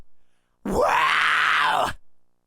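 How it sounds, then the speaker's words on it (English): A single sustained false chord scream, a gritty, snarling distorted vocal held for just over a second at close range and full loudness, demonstrating the technique, with no talking around it. "It still sounds crazy when you do it with a false chord scream."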